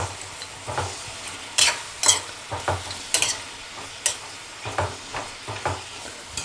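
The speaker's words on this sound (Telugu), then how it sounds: "ఇవి కొంచెం వేగేదాకా కొద్దిగా కలదిప్పుకుందాం." Tomato chutney frying in a pan with tamarind and salt, stirred by a spoon: a soft sizzle underneath with repeated sharp scrapes and knocks against the pan, close by, no voices.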